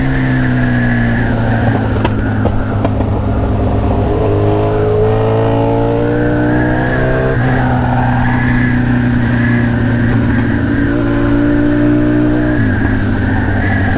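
A Suzuki B-King motorcycle engine revs and accelerates steadily up through the gears, loud and close, with rising and falling engine tones throughout.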